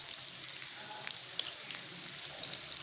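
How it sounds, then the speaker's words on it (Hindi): Onions added to hot oil for Punjabi karhi pakora, giving a steady bright sizzle with small crackles throughout, close and even, with no one speaking. "अब इसमें प्याज डाल देते हैं"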